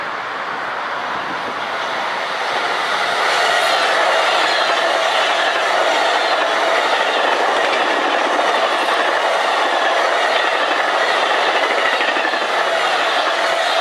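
A Long Island Rail Road M3 electric multiple-unit train rolls past at close range, a loud sustained rumble and rush of wheels that builds within the first few seconds and holds steady.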